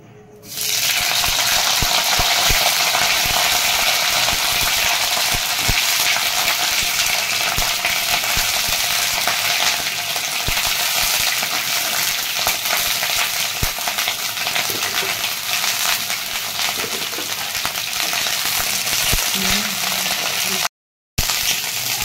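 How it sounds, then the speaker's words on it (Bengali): Cut and washed cauliflower florets frying in hot oil for Kashmiri-style cauliflower, a steady, loud, continuous sizzle and crackle close by with occasional stirring clinks, no talking, and a brief dropout near the end. "আমি একটা গোটা কপিকে কেটে ধুয়ে নিয়েছি। তেল গরম বসিয়েছি, আমি এখন ভেজে নিচ্ছি।"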